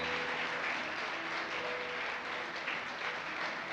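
A church congregation claps in steady, sustained applause, a soft even wash of many hands with faint voices mixed in.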